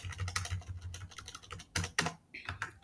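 Rapid keystrokes on a computer keyboard while entering HTML code for an unordered list, a close, uneven clatter of clicks in bursts with short pauses, heard alone without talk.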